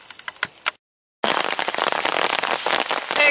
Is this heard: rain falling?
yes